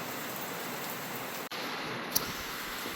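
Steady rain falls outdoors at a rifle range, a continuous, even hiss of drops on surfaces that holds close and constant, broken only by a brief dip in the middle and one small sharp tick near the end.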